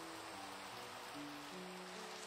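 Rain falls in a video game, a soft continuous hiss of water with faint low tones underneath, quiet and steady with no talking.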